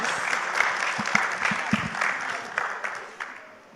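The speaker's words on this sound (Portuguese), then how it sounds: "Merecem os aplausos." Applause from an audience at a live program on depression and bipolar disorder, a burst of clapping thanking the speakers that gradually fades out toward the end.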